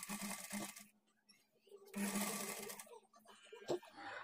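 A nearby sewing machine runs in two stretches while joining blouse sleeves to the bodice, with a quiet pause between them and a voice talking over the stitching.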